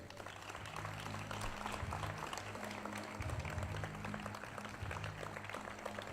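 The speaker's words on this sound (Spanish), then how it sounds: "Un aplauso para ella." Applause from the audience at a political campaign rally in Zuera, Aragón, a faint, steady wash of clapping from a crowd heard at a distance, with low murmuring voices underneath.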